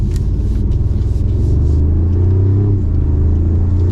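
A 2024 Mercedes-Benz CLE450 coupe pulls hard under full throttle, its engine and exhaust giving a loud, deep, steady rumble heard from close by without any talking.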